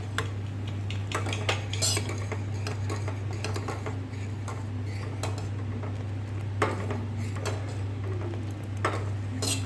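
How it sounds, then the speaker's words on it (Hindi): Cooked, sweetened milk for malai kulfi is stirred in a pot to cool it, with a spoon clinking and tapping against the metal in irregular bursts over a low, steady hum. "देखिए चलाकर इस तरह पूरे को ठंडा कर लेना है।"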